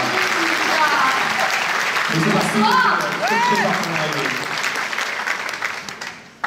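An audience at a film premiere at Le Grand Rex in Paris claps in steady, dense applause that fades toward the end, with people talking over it.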